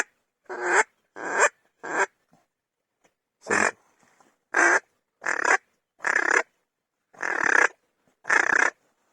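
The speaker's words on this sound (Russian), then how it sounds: "Это утка." A duck calls in the wild during a May hunting and fishing trip in the Komi Republic: about ten loud, harsh, nasal calls, evenly spaced with quiet gaps between them.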